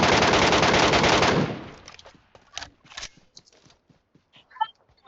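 Dense automatic gunfire from the shooter game PUBG Metro Royale roars loudly for over a second, then gives way to scattered single shots, thuds and distant pops.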